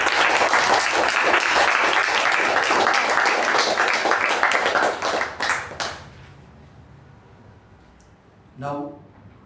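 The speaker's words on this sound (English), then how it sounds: "a big round of applause for BPM Sudheesh" Audience at a Toastmasters club meeting claps loudly and steadily for several seconds, then the applause thins and fades out, followed by a brief voice near the end.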